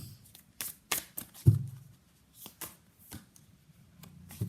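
Tarot cards shuffled by hand in a quiet room, a series of soft, brisk riffling and slapping bursts spaced irregularly, with one heavier thump near the middle, close and alone.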